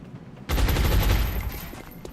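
A single gunshot in the turn-based strategy game XCOM: a sudden loud burst that rings out and slowly decays, with no talk.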